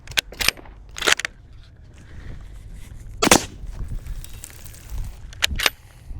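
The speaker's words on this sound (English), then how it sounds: "Now let's give it another 2 shots." Bolt action rifle fitted with a suppressor, several sharp muffled cracks spread across a few seconds, near and loud over quiet outdoor background.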